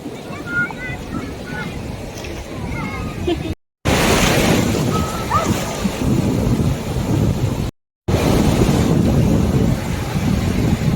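Loud, rushing sea waves break and wash continuously on the shore at Desaru Coast, Malaysia, with heavy wind buffeting, interrupted twice by brief cuts to silence.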